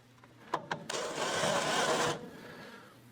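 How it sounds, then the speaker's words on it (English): A 1/4-inch toothed grinding burr bites into a weld on rusty vehicle bodywork, heard as a few sharp ticks followed by about a second of close, buzzing rotary grinding that stops abruptly, leaving faint background noise. "I'm using a 1/4 inch grinding burr, which has teeth on the end of it, to try to cut a flat out and get through the weld"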